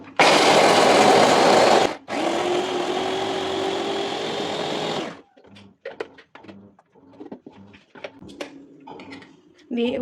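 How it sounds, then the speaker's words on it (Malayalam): An electric chopper whirs loudly while chopping carrots, running in two close bursts separated by a brief pause, then stops as a person begins talking. "നമുക്കിതൊന്ന് ചോപ്പ് ചെയ്തെടുക്കാവേ."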